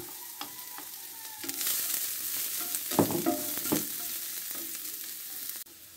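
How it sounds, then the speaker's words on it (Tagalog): Eggplant and garlic fry in oil in a pan, a steady close sizzle with a few louder crackling pops and stirring scrapes, no talking. "Tapos tayo magpirito ng talong, babawasan tayo mantika, lagyan natin ating bawang."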